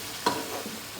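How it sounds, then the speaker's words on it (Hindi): Chicken pieces roast in masala on high flame for a potato chicken curry, a single sharp spoon clink against the pan over a soft, low sizzle. "हमने इसको चिकन को मसाले में अच्छी से भूनना है"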